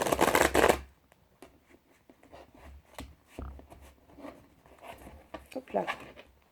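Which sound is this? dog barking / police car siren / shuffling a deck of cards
shuffling a deck of cards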